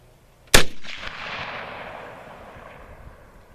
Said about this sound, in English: All right, here goes, another shot.